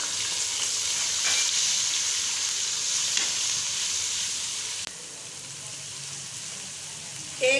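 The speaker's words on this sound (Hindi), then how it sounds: "मैं लहसुन को फ्राई कर रही हूँ।" Garlic fries in a pot with a steady, close sizzle and hiss, broken by a few stirring scrapes; the sizzle drops slightly in loudness partway through.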